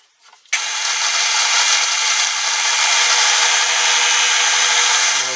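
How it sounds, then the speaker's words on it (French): A power drill bores into cherry wood for a corkscrew handle, starting abruptly after a brief rattle and then running as a loud, steady, continuous grinding whir close by. "On va percer jusqu'à la profondeur suffisante sans dépasser d'autre côté"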